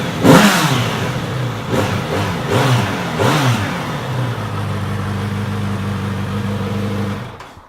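A Kawasaki Z900RS motorcycle engine firing up close by, with a few sharp revs early on before it settles into a steady, rumbling idle that cuts off near the end; no one speaks.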